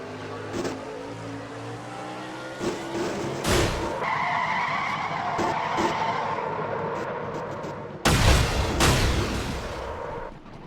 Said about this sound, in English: Looked like she was going to come away unscathed until Brock and McIntyre both nailed her